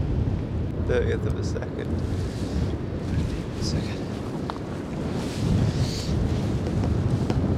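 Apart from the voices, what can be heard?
wind blowing on microphone outdoors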